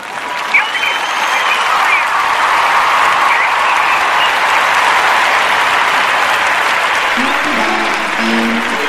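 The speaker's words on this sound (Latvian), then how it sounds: "apsveicam laimētākais aplausos vēlreiz" A crowd applauds a lottery winner in a long, even burst of clapping that holds for several seconds, with a short tonal melody entering faintly near the end.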